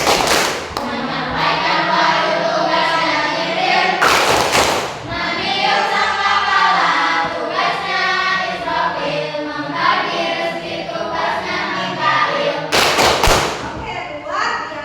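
A class group performs the 'tepuk malaikat' rhythmic clapping game, loud patterned hand claps and sharp thuds ringing out close by while voices chant along throughout.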